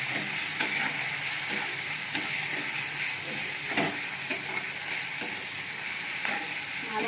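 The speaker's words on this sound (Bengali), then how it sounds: "ভালো করে আমি একটু মশলার সঙ্গে কষিয়ে নেব।" Vetki fish curry with spices and slit green chilies fries in a pan, giving a steady close sizzle while a spoon stirs and scrapes it at intervals. No one speaks.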